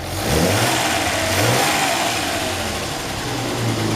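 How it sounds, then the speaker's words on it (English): A Fiat 130 engine revs up and down in several quick bursts, close by and fairly loud, with no talking. "it's quite a nice revving engine"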